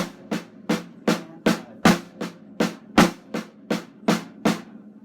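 A drum set is played in a double-stroke sticking with accents landing on the crash cymbal, producing a steady run of about a dozen sharp, bright hits with ringing tails, close and alone.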